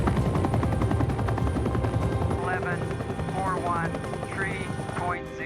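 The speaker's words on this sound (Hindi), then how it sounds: "सारा उसी समय हेलीकॉप्टर में बैठती है और रेस्क्यू टीम सिग्नल वाली जगह पर जाने लगती है।" Rescue helicopter in a movie scene flying over snowy mountains, a steady loud rotor drone throughout with chopping low thuds, overlaid by voices and radio chatter and some swooping musical tones.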